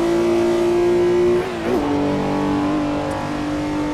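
A Porsche 906 E race car engine from the 1960s in the Assetto Corsa racing game, a loud sustained drone that holds steady, dips briefly as if shifting gear, then settles again.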